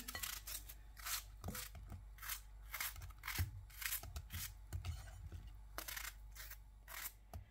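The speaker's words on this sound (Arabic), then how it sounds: "بدي اقطعهم بهي الطريقه هيك مكعبات وسط" Peeled apples being cut into medium cubes with a knife, a rapid series of crisp, close chopping taps on a board in irregular bursts, with no talking.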